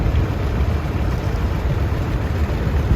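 A 1949 John Deere tractor drives in an outdoor tractor show parade. A continuous low, loud engine rumble stays steady and close throughout.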